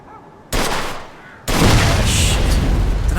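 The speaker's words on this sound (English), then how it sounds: "All right, that's enough shooting." Gunfire in the video game Mafia 2 Definitive Edition comes as loud, dense bursts of shots, one burst after a quiet lead-in and then a sustained barrage that runs to the end.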